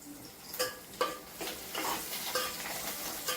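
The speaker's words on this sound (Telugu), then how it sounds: "ఉల్లిగడ్డలు ఎర్రగా వేయించుకోవాలా" Onions frying for chicken curry are stirred in a pan, a low sizzle broken by about six sharp scraping strokes of a spoon at an irregular pace, close and fairly quiet, with no voices.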